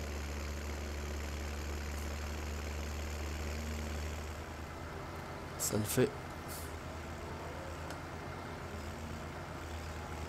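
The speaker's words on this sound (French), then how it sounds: "Oh putain, il en chie là, mon petit DX." Tractor engine in Farming Simulator 17, a DX 471, a steady low droning rumble under a man's speech, with a couple of brief clanks midway.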